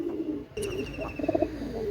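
Soft, low cooing of Teddy pigeons repeats in short throaty bursts, close by, with a few faint chirps mixed in.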